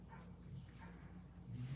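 Dogs out in a yard give soft, faint barks and whimpering yips in a few short bursts at a distance, under a low background hum.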